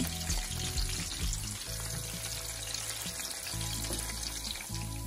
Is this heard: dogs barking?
no